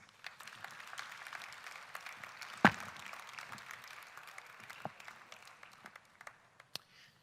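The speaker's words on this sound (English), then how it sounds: "please welcome her with a round of applause" Scattered applause from a conference audience welcoming a representative: sparse, fairly quiet clapping at moderate distance with a few sharper individual claps standing out, thinning toward the end.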